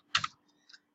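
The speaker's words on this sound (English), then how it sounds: "remove the image by left clicking it, pressing delete on your keyboard" A quick pair of plastic clicks from a computer mouse and keyboard delete key, close and crisp, followed by a fainter second tap in a quiet room.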